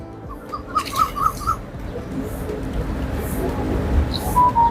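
Soft cooing of pigeons in a park in Bangkok, Thailand, over a steady outdoor hum, with a few short whistles and chirps near the end.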